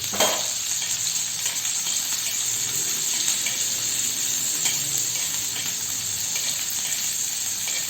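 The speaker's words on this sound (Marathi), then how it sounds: "तेल गरम झाल्यावर मिरची आणि लसूण त्यामध्ये घालायचा" Green chilies and garlic fry in hot oil for a village-style fenugreek dish, a dense, loud, continuous sizzle and crackle that holds steady from start to finish with no voices.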